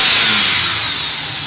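A cold car engine revs hard as the throttle is pressed fully, then released while a MAF sensor is tested, the roar loud and broad at the start and easing off steadily as the revs fall, with no talking.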